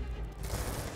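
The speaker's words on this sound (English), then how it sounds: "Covering fire" Burst of covering gunfire in the video game Black Ops 2, a rapid rattle of automatic shots, fairly faint and dense over a short moment.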